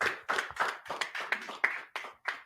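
Hands clap together in rhythmic bursts during a congregation's Sabbath service, about nine sharp, close claps in quick succession with short gaps between groups.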